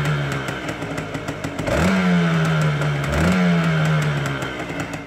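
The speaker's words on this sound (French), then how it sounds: "tu entends un moteur de 2 temps" A two-stroke 125cc motorcycle engine revs up twice in quick succession, its buzzy pitch rising and then settling back to a rattling idle, close and loud.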